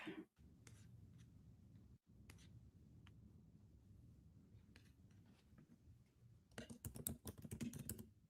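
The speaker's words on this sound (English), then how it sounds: "Can you hear me typing?" Fingers type steadily on a computer keyboard, soft rapid key clicks running throughout at low volume, quickening into a denser flurry of keystrokes near the end.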